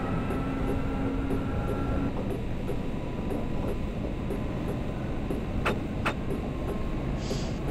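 An electric BR151 locomotive in Train Simulator 2016 runs with a steady, continuous rolling rumble and hum, joined by a couple of brief sharp clicks near the end.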